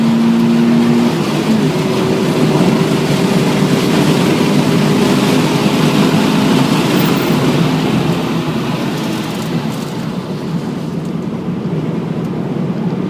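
Subaru BRZ engine accelerating hard on the Infineon race track, a loud steady engine roar with rising harmonics that holds for most of the stretch, with no talking.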